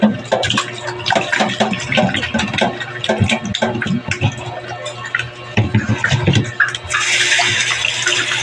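Stingray meat is washed by hand in water, with splashing, sloshing and dripping that go on close and busy, then give way to a steady rush of running water near the end.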